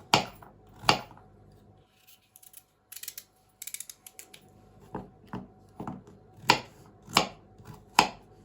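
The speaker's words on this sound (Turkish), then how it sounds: "Onu da şöyle doğrayacağım." A knife chops on a board in sharp, separate strikes, some clustered and some spaced out, with a quiet pause partway through.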